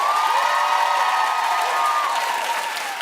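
Studio audience applauding loudly with cheers and whoops mixed in, a dense, continuous crowd noise that eases slightly toward the end.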